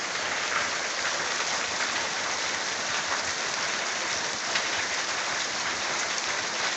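Heavy rain pours steadily on a rainy day in Pernambuco, a dense, unbroken hiss of drops drumming on surfaces, close and loud throughout with no voices.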